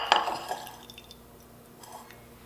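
Liquid from a jar of pressure-canned pork tenderloin drips and trickles as the juice is separated from the meat, with a louder splash at the start, then faint sparse drips.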